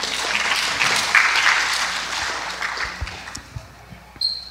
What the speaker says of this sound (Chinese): 那我们用热烈的掌声欢迎